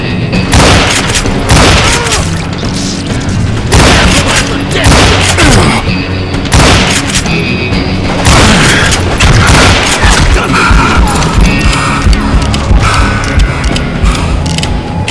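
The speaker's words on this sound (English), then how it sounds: "Who's shooting at us? We're under fire!" Dense gunfire and booming explosions in a Call of Juarez camp shootout in Colorado, loud and continuous with rapid volleys and mechanical clatter, with shouting voices mixed in.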